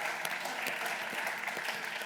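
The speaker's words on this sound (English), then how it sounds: "Big applause for Split." Steady applause from a conference audience, dense clapping that holds at an even level throughout without any cheering or talk.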